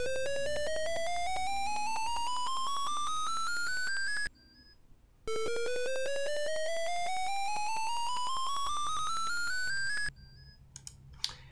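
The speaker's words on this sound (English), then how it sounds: "So what we're seeing here is a two-octave chromatic scale." Electronic sine-like tones step upward through a two-octave chromatic scale, played twice in even, evenly spaced notes, each run ending in a brief silence, followed by faint clicks.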